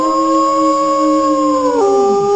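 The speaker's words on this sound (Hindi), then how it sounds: "वह भी मुंह चांद की ओर उठाकर और सियारों के स्वर में मिलाकर आऊ आऊ करने लगा।" A single long jackal howl rises as if toward the moon, holding a clear, loud, pure tone before bending downward and trailing off at the end.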